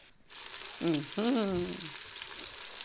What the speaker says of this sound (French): on va faire dorer de chaque côté nos pièces de bœuf, cette gîte